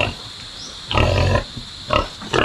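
Pigs on a provincial farm give short, loud grunting squeals in three separate bursts, close to the microphone, with quieter barnyard noise between them.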